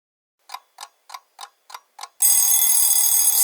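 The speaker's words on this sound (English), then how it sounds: "Spid's alarm clock went off rudely." Six quick evenly spaced ticks lead into a loud, continuous shrill ringing of an alarm clock that keeps going without a break.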